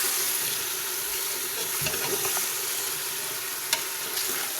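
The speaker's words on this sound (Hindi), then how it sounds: "चिकन शामिल करके इसको भी हम अच्छी तरह से भून लेंगे।" Chicken pieces sizzle and fry steadily in a hot karahi for desi chicken gravy, with occasional stirring scrapes and clinks, close and continuous without talk.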